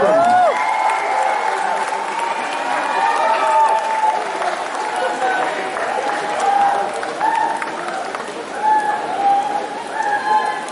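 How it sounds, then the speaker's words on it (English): A stadium audience applauds for a woman veteran runner at an Olympic Day Run in Nagaland, the clapping steady and loud for about ten seconds, with whistles and cheers cutting through. "please cheer her up. Please give her a big hand,"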